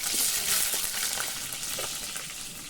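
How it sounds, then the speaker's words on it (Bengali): Potatoes fry in hot oil in a wok for a village-style chicken and potato curry, giving a bright, steady sizzle that is loud and close at first and eases slightly toward the end. "আমি কড়াইয়ে তেল দিয়ে দিচ্ছি আলুগুলো ভেজে নেবার জন্য।"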